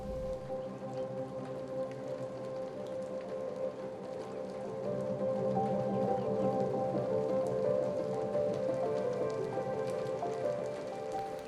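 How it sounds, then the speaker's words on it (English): Soft, steady rainfall at Chobe Riverfront in Africa patters continuously, fairly quiet and even, swelling slightly toward the end with no one speaking. "the rain set in"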